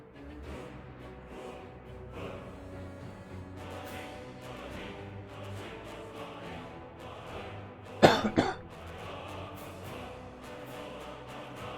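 A single sharp, harsh cough bursts out, with a smaller follow-up cough just after it, over quiet background sound during a PC game development stream.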